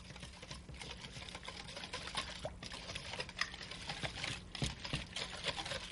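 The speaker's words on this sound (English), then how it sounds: "So you whisk that together." Dry red wine and Worcestershire sauce are whisked together in a bowl, a fast, steady patter of ticking strokes, close and soft, with no voice over it.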